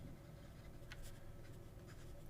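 A fountain pen nib writing in ink across paper, giving a few soft, faint scratchy strokes over a low steady background hum, with no talking.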